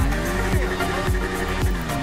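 A Bajaj Pulsar 150 motorcycle engine idles steadily, a low, even rumble with a regular pulsing beat close by.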